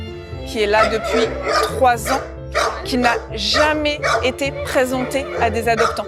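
A dog at an SPA animal shelter barking and yipping in repeated bursts, loud and close, under a steady spoken voice, with a constant low hum in the background.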